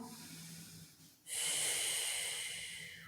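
Deep, steady breathing during a yoga Pilates stretch, with a soft inhale giving way to a loud, hissy, sustained exhale heard up close and alone.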